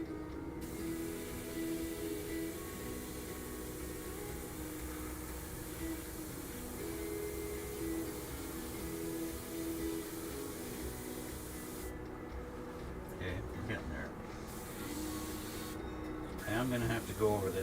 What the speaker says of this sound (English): pulling back on the trigger a little more to get a little bit more spray